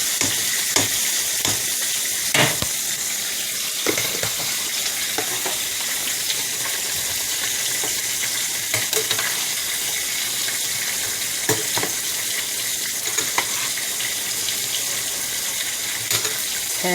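Potatoes frying in a pot on a home stove, a steady broadband sizzle with occasional stirring clicks and splashes, close and continuous without speech.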